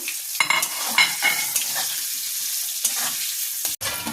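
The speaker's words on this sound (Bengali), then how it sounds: "ওই তেলের মধ্যেই কিন্তু আমি আলুগুলোকে ফ্রাই করে নিয়েছি।" Boiled potatoes fry in hot oil for a duck egg curry, a bright steady sizzle punctuated by several sharp spatula scrapes and clinks.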